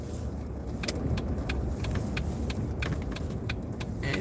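A Jeep Wrangler drives along with a steady road and engine rumble inside the cabin, while rhythmic metallic clicks or jingles tick repeatedly throughout.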